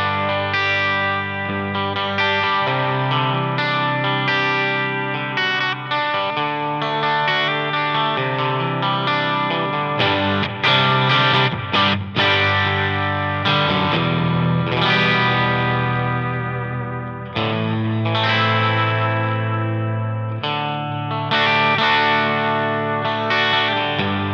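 An electric guitar played through a hybrid pedalboard into a Bull 2x12 cabinet rings out in loud, sustained distorted chords with chorus and echo, alone and continuous.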